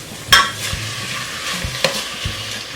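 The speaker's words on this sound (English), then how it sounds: "Just gotta mix this up real good." Beef stew stirred in a hot pot, a soft sizzle under a couple of sharp spoon knocks and quick scraping strokes, close and brief, with no voices.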